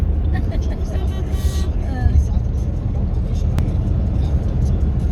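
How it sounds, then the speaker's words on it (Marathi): Car being driven on an open road, a steady, loud low engine and road rumble that runs unbroken throughout, with faint voices in the cabin. "मी माझी गाडी चालवतोय"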